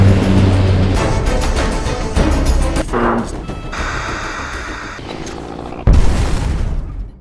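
A flying drone is shot down with an air rifle in a film and explodes: deep booms and crashing blasts, with a sharp, loud burst near the end.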